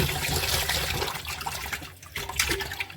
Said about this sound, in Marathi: हे दोन तीन पाण्यात मासे चांगले स्वच्छ धुवून घ्यायचे